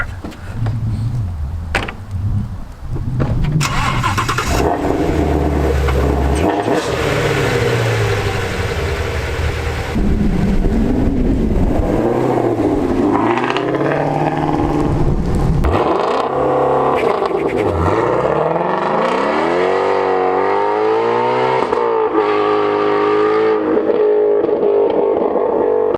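A 2019 Ford Shelby GT350R starts on a Texas country road, then idles and revs hard and accelerates loudly, its engine note rising and falling through repeated sweeps close by.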